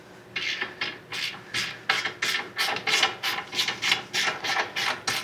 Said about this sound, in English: we're going to use a 3/8 drive ratchet